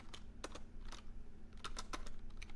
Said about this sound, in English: I can just start typing right away.